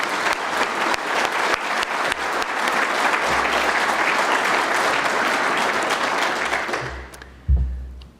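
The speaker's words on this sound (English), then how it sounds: "So please applaud George Galderisi." Sustained applause from an audience at a naval institute annual meeting award presentation, a dense steady clapping that carries for several seconds and then tapers off into a brief bump of noise.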